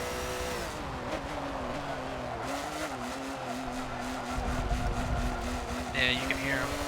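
Race car engines at a WeatherTech series event at Daytona drone steadily throughout, a sustained mechanical roar with shifting pitch, while people talk over it and a brief high squeal cuts in near the end.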